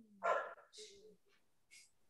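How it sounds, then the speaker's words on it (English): A dog barks a few times nearby: short yips and woofs in a quick, uneven sequence, fairly quiet, with brief gaps between them. "That's a dog."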